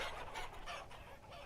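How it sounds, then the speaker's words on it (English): Chickens cluck in the Vintage Story game, a few quick overlapping clucks and squawks close by, moderately loud, with no talking. "So these are my chickens."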